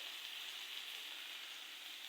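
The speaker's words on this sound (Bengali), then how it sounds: "হালকা মিডিয়াম লো আঁচের মধ্যে রেখে ভেজে নেব।" Food frying in a pan over medium-low heat, with a soft, continuous sizzle that holds steady and quiet throughout, with no voices.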